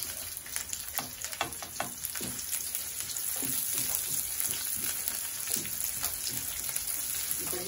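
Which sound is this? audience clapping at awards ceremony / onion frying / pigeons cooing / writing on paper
onion frying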